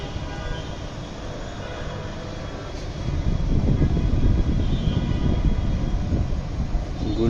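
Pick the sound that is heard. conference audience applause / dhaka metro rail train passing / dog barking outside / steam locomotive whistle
dhaka metro rail train passing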